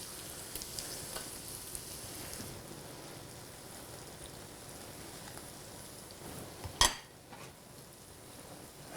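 Chicken egg rolls fry in hot oil with a steady, fairly quiet sizzle. One sharp clatter of a utensil or pan cuts through near the end.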